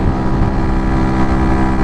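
Yamaha YZF R125 with an aftermarket exhaust at high revs, a loud, steady, buzzing engine drone mixed with wind rush, no talking.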